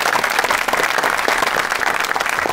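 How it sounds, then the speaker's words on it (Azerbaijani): Audience applause at a live comedy show, a dense, loud burst of many hands clapping together that holds steady throughout, with no voices over it. "Arzumun butikinə bir alqışlar gəlsin"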